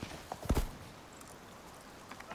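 A horse mount in the survival game Icarus gives a few clip-clopping hoof steps, with a short cluster of sharp, close hits followed by quiet ambience and faint later steps.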